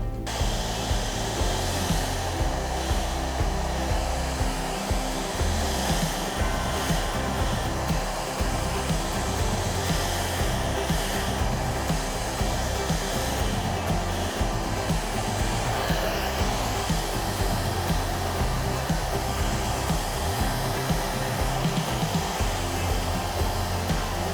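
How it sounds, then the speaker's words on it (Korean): A hair dryer blows steadily and loudly at close range while styling a man's hair for volume, a continuous whooshing roar that hardly changes for the whole stretch. "볼륨감이 좀 없는 부분에 전체적으로 드라이기로 열을 이용해서 조금 살려볼게요"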